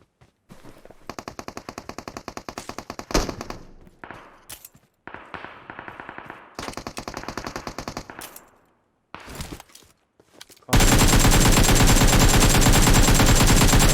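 Automatic gunfire in PUBG Mobile on the Miramar map: several loud, rapid bursts of machine-gun fire with short gaps between them, ending in a sustained, very loud stretch of continuous fire and noise.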